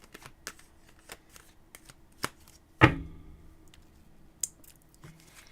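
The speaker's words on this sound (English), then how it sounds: "let me shuffle the cards and see" Tarot cards are shuffled by hand in a quiet room: a string of soft, separate riffles and taps with one sharper, louder snap in the middle, close and alone with no talking.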